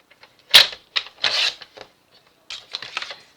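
Sheets of paper for an album are trimmed to size with a paper trimmer, giving a few close, loud scraping slices and rustles separated by short quiet gaps.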